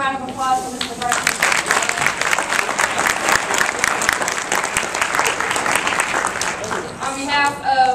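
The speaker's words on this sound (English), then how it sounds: "can we give another round of applause for Mr. Bryson?" A conference audience applauds a speaker, with dense, sustained clapping that fills the room for several seconds. It starts abruptly and tapers off at the end as a voice returns.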